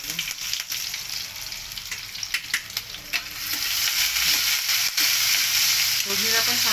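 Garlic, green chillies and curry leaves frying in hot oil for dal and potato sabji, a steady dense sizzle with scattered crackles and pops that grows louder and fuller in the second half.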